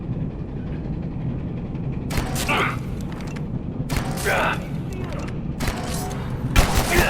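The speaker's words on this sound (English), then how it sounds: "Oh god, he threw a grenade." A grenade blast and gunfire erupt in Abiotic Factor aboard a train, heard as several loud, broad bursts over a steady low rumble of machinery and rails, with talk running throughout.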